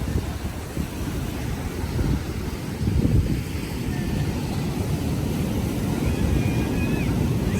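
Ocean waves surge up the sand at Mypadu beach in gusty wind, making a continuous close rush of surf and buffeting wind noise with a slightly louder swell partway through.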